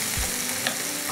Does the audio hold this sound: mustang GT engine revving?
no